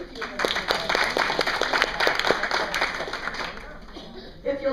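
Conference audience claps for Ryan, a dense burst of applause filling the room at moderate loudness, tapering off toward the end with voices mixed in.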